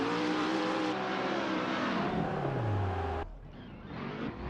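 A drift car revs hard on a lap, its engine note sweeping and falling loud and close before cutting to a quieter, rougher idle-like drone with tire and wind noise.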